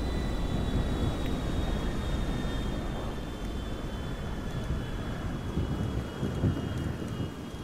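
Boeing 747 airliner flying overhead during a blizzard at Los Santos International in GTA 5: a steady, rumbling roar with a faint high whine runs unbroken throughout, loud and continuous.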